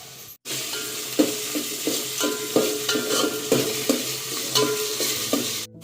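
Garlic paste sizzles in hot oil in a pan for a Malvani stuffed crab dish, with a steady hiss and several sharp scrapes of a spoon stirring, close and alone with no talk.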